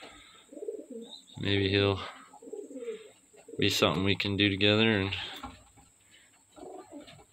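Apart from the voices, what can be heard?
pigeons cooing in a coop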